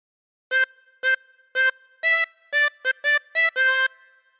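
A 16-hole tremolo harmonica plays the opening phrase of Ten Green Bottles as nine separate reedy notes, short puffs then a longer held final note, clear and close against silence.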